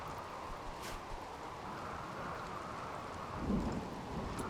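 Thunderstorm in the RimWorld video game: steady heavy rain hiss fills the clip, with a low rumble of thunder swelling briefly near the end, no voices.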